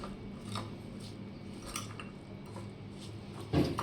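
Cucumber salad being tossed in a bowl, giving faint, scattered clinks and soft scrapes of utensils with a duller bump near the end, with no talking.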